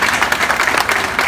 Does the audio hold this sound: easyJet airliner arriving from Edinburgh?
no